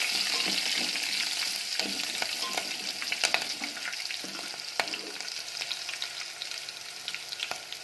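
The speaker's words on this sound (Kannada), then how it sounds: "ಇದಕ್ಕೆ ಇವಾಗ ನಾನು ಉದ್ದುದ್ದಾಗಿ ಕಟ್ ಮಾಡಿರೋ ಈರುಳ್ಳಿ ಹಾಕ್ಕೊತಾ ಇದ್ದೀನಿ" Long-cut onions sizzle and fry steadily in a pan for rice cooking, with a continuous bright crackle, occasional sharper pops and a few stirring clicks, close and alone with no talk.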